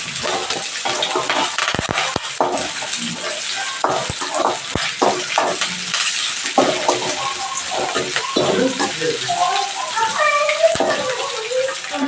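Dried red chilli and curry leaves frying in hot oil for tomato rice, giving a steady crackling sizzle with scattered pops and stirring clicks throughout.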